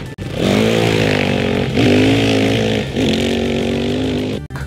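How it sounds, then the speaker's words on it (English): A dirt bike engine buzzes loudly and close, holding a raspy tone that dips and climbs again in three revving surges, with brief cutoffs at the start and end. "Dirt bike."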